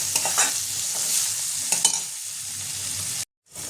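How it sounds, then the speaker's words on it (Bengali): Soya bhurji sizzles in a frying pan with salt added, close and steady, broken by a few stirring scrapes before it cuts to a short silence near the end. "এর মধ্যে দিয়ে দেবো নুন, পরে আরেকটু নুন দেবো, এটা হালকা ভেজে নেব।"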